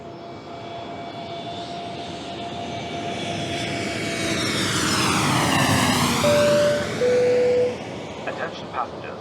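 Jet airliner passing overhead near Dubai airport, a loud rising roar with a sweeping whine that swells past and then fades, with a brief tonal beep near the end.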